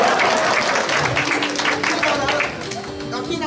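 Guests at a wedding reception applaud together in a loud, dense burst of clapping that fades slightly toward the end, with some voices mixed in.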